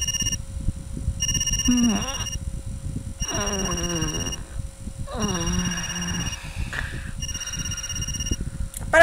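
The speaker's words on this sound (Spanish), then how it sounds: "apagué la alarma del celular junto a la cama" Cell phone alarm ringing beside a bed in a video game, a steady repeating electronic ring tone with sustained high pitched tones over game ambience, while a person talks intermittently over it.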